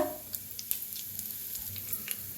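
Cumin seeds and a pinch of asafoetida are dropped into hot oil with mustard seeds for a cluster bean dish. They give off a faint, steady close sizzle dotted with small crackling pops, with no voices.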